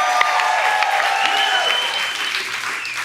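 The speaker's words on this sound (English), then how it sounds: "I think we can clap better than that." Church congregation clapping and applauding at a team leaders meeting, a thick sustained wash of applause with cheering voices mixed in, loud and continuous throughout.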